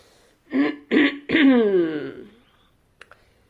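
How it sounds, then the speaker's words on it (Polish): A few throat-clearing grunts in quick succession, the last one drawn out, followed by faint clicks; close and fairly quiet. "Zaczęli chrząkać, zastanawiać się."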